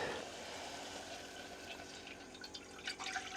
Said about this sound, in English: Add just enough water for the pasta.